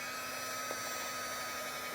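Hair dryer blowing over a small craft piece, a steady even whoosh of airflow at moderate level that stays unchanged throughout, with no talking.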